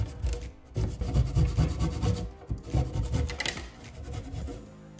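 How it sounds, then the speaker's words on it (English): A handsaw cuts through a wooden dowel glued into a hole in a wall for floating shelves. The sound is a close, loud, rhythmic rasp of back-and-forth strokes, with a short pause early on and no talking. "After it's in, we can simply cut it off with our handsaw."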